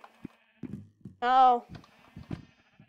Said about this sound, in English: I can just grab the sheep while they're fighting.